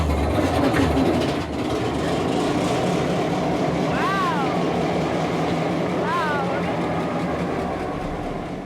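A large two-stroke marine diesel engine aboard an oil tanker starts up, a loud, steady low rumble and churning drone with a couple of brief rising whistle-like tones over it.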